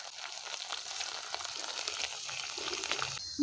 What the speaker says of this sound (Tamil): வெங்காயம் பச்சை மிளகாய் நல்லா குட்டி வதக்கிக்கலாம்